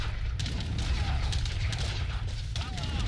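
Booming cannon blasts from a naval battle in Age of Empires III, dense and continuous with rumbling low end, a few sharper shots breaking through the din.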